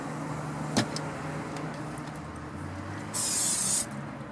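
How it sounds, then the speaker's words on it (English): Olive oil is sprayed onto a loaf of whole wheat bread in a solar oven in one short, sharp hiss lasting under a second, following a quieter click against a low background hum. "spray a little bit of olive oil on the top of the bread"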